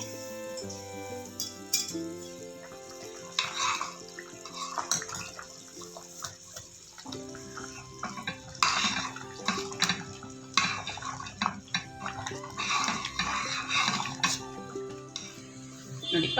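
Close kitchen clatter and scraping as semolina is poured into a pot of water and stirred, with bubbling water and metal clinks throughout.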